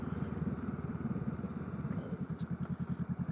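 A Honda Rebel 500 motorcycle engine thumps in a steady, low pulsing rhythm while riding, heard close and fairly quiet over faint wind noise.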